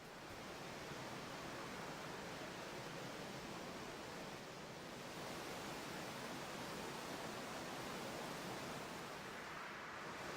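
Steady, loud rushing water from a waterfall in the video game Final Fantasy X, a continuous broadband roar holding even for the whole stretch with no voices over it.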